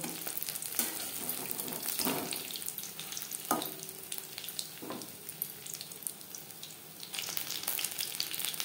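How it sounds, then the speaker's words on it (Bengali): Stuffed pointed gourd fries in hot oil with a steady, close sizzle, broken by a few brief knocks and swishes as the pieces are turned in the pan. "এভাবে উল্টে পাল্টে সুন্দর একটা কালার আসা পর্যন্ত ভেজে নেব।"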